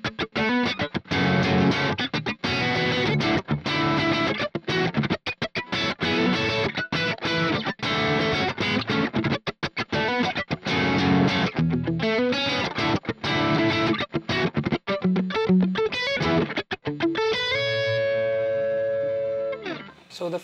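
A heavily effected, distorted electric guitar plays the main riff of a song, dense rhythmic chords chopped by sharp stops for about seventeen seconds, ending on a ringing sustained chord; loud and close, no talking.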